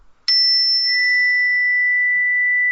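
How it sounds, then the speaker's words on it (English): A single bright chime strikes once and rings on with a long, steady, pure sustain, with faint low thumps underneath. "it's an energy bar chime apparently"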